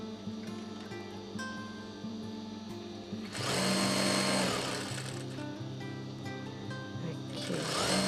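A sewing machine runs stitching along the edges of fabric, a steady mechanical whir that starts around three seconds in and stays loud, with a person talking over the opening stretch before it.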